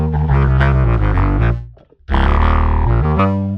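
A loud, buzzy synthesized bass tone from a synth effect on the main bass signal plays a short riff, pauses briefly, then resumes with thick, sustained notes.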